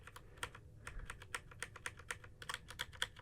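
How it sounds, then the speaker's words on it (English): Computer keyboard arrow keys are tapped in quick, uneven succession, producing a dense run of light plastic clicks close to the microphone at low volume, with no talking. "I'm using the arrow keys to nudge it into place."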